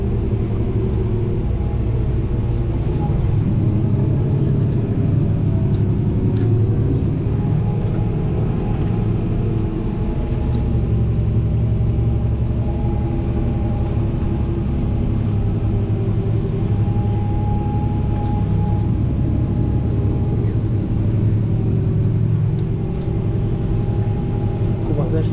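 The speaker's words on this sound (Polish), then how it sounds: "Tutaj już do nas jedzie z piątką zawieszaną, z Lemkenem." Heavy, steady low engine rumble of a tractor carrying a mounted five-furrow Lemken plough in a field during spring ploughing, loud and close and droning without a break.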